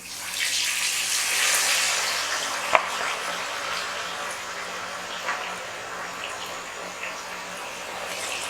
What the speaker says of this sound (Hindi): अभी हम मछली फ्राई करना शुरू कर लेते हैं। तेल गरम हो गए